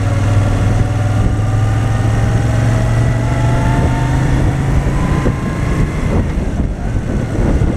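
A Moto Guzzi V7 III motorcycle ridden at night through London, its engine droning steadily with a low, even hum and slight pitch shifts as the bike cruises, loud and close throughout with no voices.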